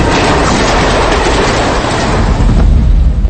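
A train rolls past on the railway tracks in a loud, continuous rush of wheel and carriage noise with steady clatter that swells slightly toward the end, with no voices.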